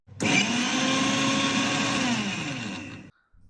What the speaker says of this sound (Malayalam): നമ്മളൊരു മിക്സിയിലിട്ട് ഇത് നന്നായിട്ടത് മഷി പോലെ അരച്ചെടുക്കുക